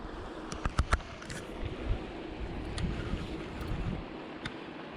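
Wind blowing along a lake bank: a steady, fairly faint outdoor rush with soft water movement and a few brief ticking knocks near the start.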